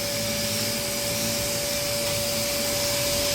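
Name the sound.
vacuum pump evacuating Mitsubishi L300 air conditioning system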